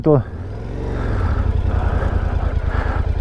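A 2020 Yamaha Tenere 700 T7 Rally Edition motorcycle pulls away on a country lane, a brief burst at the start giving way to a loud, steady low engine drone with rhythmic pulsing.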